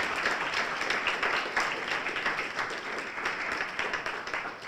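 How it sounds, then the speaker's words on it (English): Audience at a spring pitch competition giving the presenters a round of applause, a steady, fairly distant crowd of clapping hands that holds at an even level throughout. "If I could have another round of applause for everyone,"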